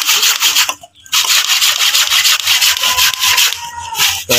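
A thick, arm-sized branch of an old, hard bonsai plant being cut with a saw, rough continuous rasping strokes with brief pauses, close and fairly loud.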